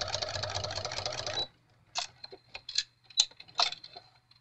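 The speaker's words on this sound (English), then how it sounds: "And I just sew it all the way around, about a half an inch." Sewing machine running a half-inch seam around a flannel-backed fabric coaster, a steady dense whir that stops abruptly, followed by a few separate clicks and taps of handling the fabric.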